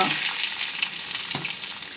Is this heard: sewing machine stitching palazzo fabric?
no